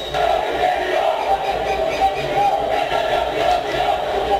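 Organized supporters of a Brazilian football club crowd together, a dense continuous roar of cheering and chanting voices filling the space at steady loudness with no breaks.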